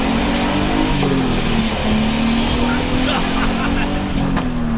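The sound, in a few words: modified car with turbo sounds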